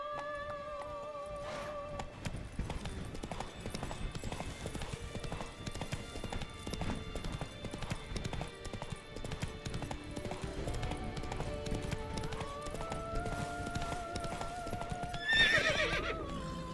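Horse galloping in the video game Witcher 3: Blood and Wine, with steady clip-clop hoofbeats running throughout alongside game music and a neigh near the end.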